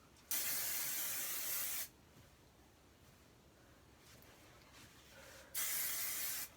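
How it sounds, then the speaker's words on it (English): Hairspray is sprayed onto freshly styled hair in two close, loud hissing bursts, the first lasting about a second and a half and the second briefer, with quiet rustling between them. "I'm just gonna hairspray it really quick"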